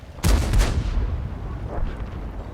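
A single heavy tank cannon shot from the US T20 medium tank in World of Tanks, a loud close boom with a rumbling low tail that fades over two seconds.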